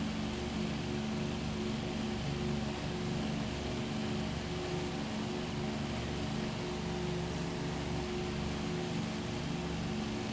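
Steady, even drone of a distant aircraft engine in a WWII Lancaster bomber flight simulation game, a continuous low hum with no breaks and no talk.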